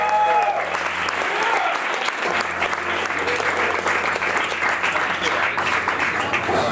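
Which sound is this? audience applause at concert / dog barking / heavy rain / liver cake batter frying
audience applause at concert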